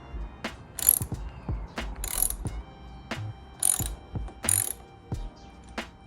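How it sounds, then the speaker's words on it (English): A socket wrench ratchet loosens a hood strut bolt on a 2018-2021 Honda Accord, sounding as close, sharp bursts of rapid clicking repeated in short strokes with brief pauses between, no talking. "take this bolt off right here with the socket wrench"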